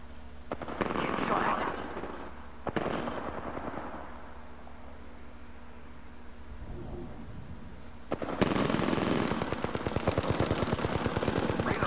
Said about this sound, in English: Heads up. Airstrike.